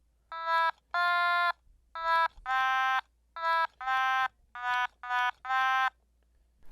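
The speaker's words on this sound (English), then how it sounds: "the melody actually goes a little too low for most Otamatones" Nine buzzy, nasal otamatone notes play a song melody in short separate phrases, each note sliding slightly, clear and close with silence between.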